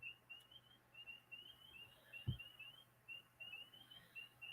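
Birds chirp outdoors in the morning, repeated short high calls in loose bursts throughout, faint and somewhat distant over a quiet background.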